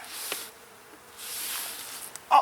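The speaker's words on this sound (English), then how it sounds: "there are many more bees in this box, and it's much heavier" Honey bees buzz around a heavy hive box in a bee yard. The buzzing is a soft, steady hum that swells and fades, with one louder sound close by at the very end.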